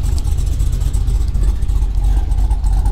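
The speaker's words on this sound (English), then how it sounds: "It sounds phenomenal. The exhaust is done very well." A 2013 Cadillac CTS-V's exhaust runs loud and close with a deep, steady rumble; the engine holds a constant throaty drone with no sharp rev spikes.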